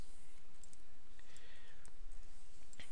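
A computer mouse is right-clicked while working in the Unreal Engine 4 editor, giving a few short, crisp clicks over a faint steady background hiss.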